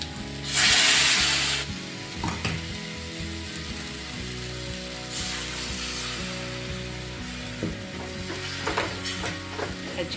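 Water is poured into hot, sizzling masala with moong vadi in a pan, giving a loud burst of hissing steam followed by steady bubbling and spoon scraping against the pan.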